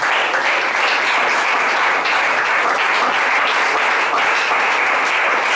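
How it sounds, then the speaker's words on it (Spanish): A church congregation gives Christ a loud round of applause, a thick, sustained roar of many clapping hands that stays near and evenly loud for several seconds without any voice on top. "Y denle un fuerte aplauso a Cristo."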